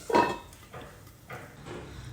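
Bitter gourd curry is stirred in a kadai, a spoon clanking against the metal pan in a few faint, scraping strokes.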